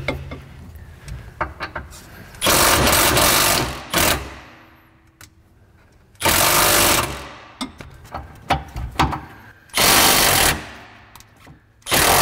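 Power tool bursts on the rear strut bolts of a 2004-2008 Acura TL, three loud sustained whirring runs of a couple of seconds each, separated by quieter clicks and handling noises, close up.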